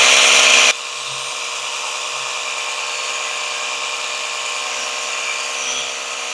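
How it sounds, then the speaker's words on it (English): A Ryobi 18V power cleaner on turbo blasts moss off a lattice work gate, a loud motor and spray burst followed by a steady high-pitched whining buzz that holds close and unbroken. "Now we're going to put it on turbo and see if we can blast off some of the moss off of my lattice work gate."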